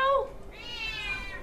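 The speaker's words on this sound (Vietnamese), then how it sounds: "Kêu meo meo quá kìa." A cat meows twice in quick succession, close and clear, with rising and falling tones, at a crowded shelter holding nearly 90 dogs and cats.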